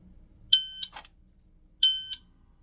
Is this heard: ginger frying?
no